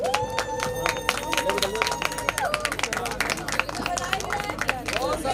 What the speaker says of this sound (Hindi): तालियों से इन बच्चों को उत्साहित करें